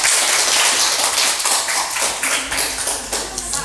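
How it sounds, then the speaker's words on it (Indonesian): A classroom group claps for a presenting group, a brisk patter of many hands at close range that thins toward uneven scattered claps near the end. "Tepuk tangan untuk kelompok 2."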